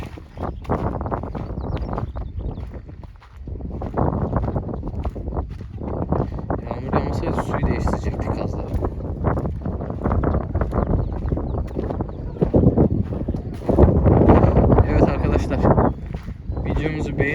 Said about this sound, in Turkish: Rüzgar esmeye başladı.